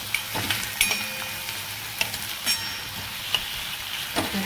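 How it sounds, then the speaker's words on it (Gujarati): Onions frying in hot oil for a sambar tempering, giving a steady soft sizzle with occasional louder crackles and utensil clicks scattered throughout, close by and with no talk. "હવે આપણે આ કાંદા છે એને પહેલા એડ કરવાના છે. અને કાંદાને આપણે થોડાક સતોડી નાખવાના છે"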